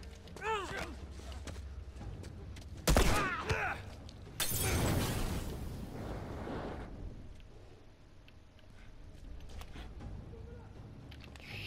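Gunfire in The Last of Us Remastered video game: a sharp loud burst near three seconds, then a heavier crashing blast, with shouting voices and game noise around them.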